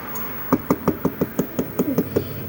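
Knuckles rap on a speaker cabinet fitted with RGB lights, about a dozen crisp, evenly spaced knocks in a quick close series over a quiet room.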